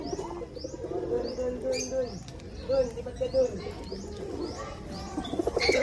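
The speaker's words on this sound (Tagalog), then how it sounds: "A bird." A pigeon coos repeatedly at close range, soft rounded calls recurring through the scene alongside small chirps and light household noise, with a person speaking intermittently nearby.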